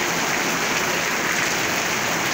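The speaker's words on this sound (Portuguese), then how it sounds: "Como tá chovendo aqui." Steady, dense hiss of rain pouring down on a ranch, loud and continuous with no break or voices.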